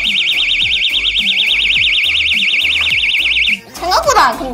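A personal safety alarm, triggered by pulling its ring, gives a loud, continuous warbling siren for about three and a half seconds over rhythmic background beats. It stops abruptly, and a voice speaks right after.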